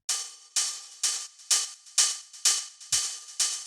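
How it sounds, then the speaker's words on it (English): A steady run of eight hi-hat hits with grainy, smeared tails, evenly spaced and fairly loud, with a soft low thump near the end. "then we have that going through a bit of grain delay"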